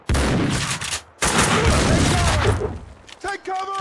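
Dense bursts of gunfire from the PC game Max Payne 2 fill the space, with rapid automatic shots and heavy impacts, a brief gap, then more firing, and shouted voices come in near the end.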